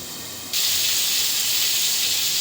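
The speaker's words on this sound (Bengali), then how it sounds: "পটলটা এইভাবে ভেজে নিয়েছি, এবারে তুলে নেব। এটা আমি সরিষা তেলে করছি দই পটলটা।" Pointed gourd in mustard oil in a village kitchen, a steady hiss that jumps to a loud sizzle after a moment and continues evenly up close with no talk.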